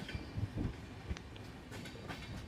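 Rani Chennamma Express rolling into Khanapur station, a low rumble of wagons with soft thumps of wheels over rail joints and faint higher screeches, steady and moderately quiet throughout.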